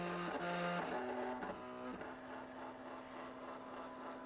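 A Silhouette Portrait 3 cutting machine reads the printed registration marks on a sticker sheet for print-then-cut: a steady close mechanical whir with stepping motor tones that shift pitch during the first two seconds, then settle into a continuous hum.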